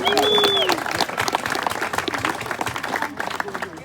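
Clapping from the audience at a steering committee's speeches evening, a brief burst that stays busy, with a voice and a sustained tone near the start.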